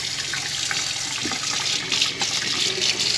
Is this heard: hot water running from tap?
yes